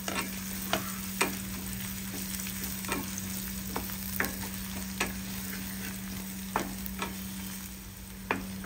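Ginger garlic paste stir-fried with onions in a pan, a steady close sizzle with sharp spatula scrapes and clicks recurring every second or so, no one talking.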